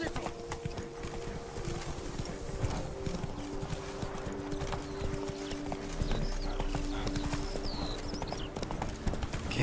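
A horse galloping in The Witcher 3: Blood and Wine, rapid steady hoofbeats close up with tack jingling, a rider briefly calling out over the continuous drumming.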